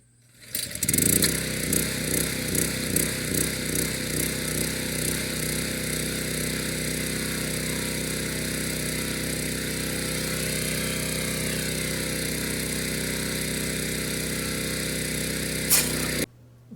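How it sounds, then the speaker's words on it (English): A Generac gas pressure washer engine runs steadily nearby, pressurizing a tank for a hydro test, with a brief uneven start before settling into a constant loud drone that cuts off abruptly at the end. "I used my Generac pressure washer to pressurize the tank."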